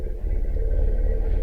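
An elephant's deep, largely infrasonic rumble, made when elephants are close together, is a low, continuous drone that holds steady through the whole short stretch.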